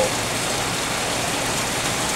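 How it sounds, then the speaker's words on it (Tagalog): Heavy rain pours down steadily, a dense, continuous hiss of drops hitting surfaces close around. "kasi ang lakas talaga ng ulan dito sa amin"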